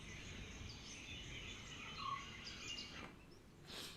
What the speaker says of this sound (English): Yeah, birds again.